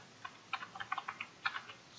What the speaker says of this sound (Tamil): ராகுல்னு சொல்லிட்டு டைப் பண்ணிக்கிறேன்.